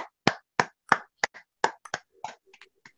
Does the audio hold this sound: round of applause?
yes